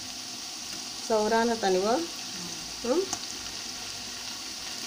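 Ginger garlic paste frying in peanut oil with onions and green chillies for a chicken curry, a steady close sizzle running throughout while a voice speaks briefly twice over it.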